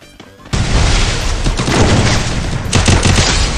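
Sniper rifle shots and surrounding gunfire in the Free Fire battle game, a sudden loud burst that continues as dense booming fire with sharp repeated cracks.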